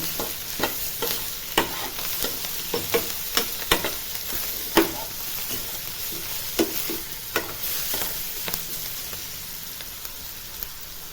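Spiced panaganti greens with turmeric and salt sizzle steadily while being frying in a pan, with a spoon scraping and tapping the pan in irregular strokes close up and no voices.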